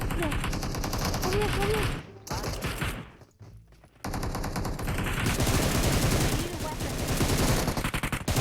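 Rapid gunfire in the mobile game PUBG Mobile keeps up nearly throughout, with sustained automatic bursts and dense shots that pause briefly partway, then resume loudly. Players' voices can be heard alongside.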